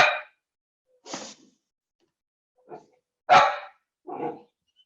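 A puppy barks in short, sharp bursts, five separate yaps with pauses between them, close by and fairly loud with no talking.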